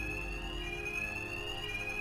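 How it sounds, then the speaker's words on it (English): An alarm in Batman: Arkham Knight blares as a steady, continuous high electronic tone over a low background rumble, constant throughout. "My attacks will be covered by the noise of the alarm."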